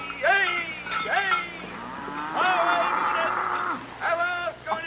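Cattle mooing as a herd of cows is driven home from the fields, several drawn-out calls in sequence fairly close by, with someone shouting to urge them along between and over the lowing.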